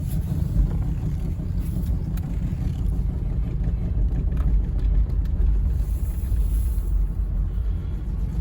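An 80 series Toyota Land Cruiser idles in drive with its engine running rough, giving a steady, close, low rumble mixed with some wind buffeting and no voices.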